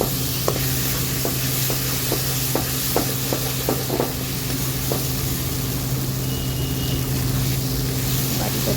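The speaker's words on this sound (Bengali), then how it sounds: "তো দেখুন মশলাটা বেশ ভালো করে কষিয়ে নিচ্ছি।" Spiced masala mixed with sour curd being stirred and fried in a pan: a soft, continuous sizzle under a low steady hum, with a run of light spatula taps and scrapes, and faint voices at times.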